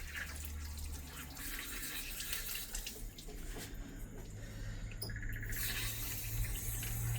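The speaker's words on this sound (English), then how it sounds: "you will proceed to washing them thoroughly." Onions are washed under running tap water, a soft, continuous splash and trickle heard faintly, with light clinking and faint chirps in the background.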